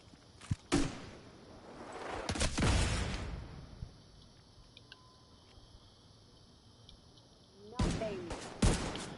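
A grenade launcher fires in the Division 2 video game, heard as a few sharp booming bursts with a longer rumbling blast, spaced apart over quiet game ambience.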